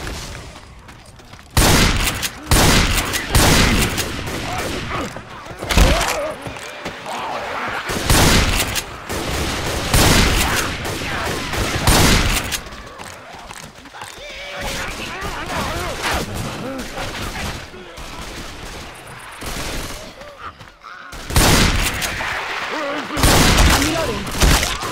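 Bursts of gunfire rip out in Left 4 Dead as zombies are shot, with loud rapid volleys and single shots repeating across the scene and people talking between and under the shooting.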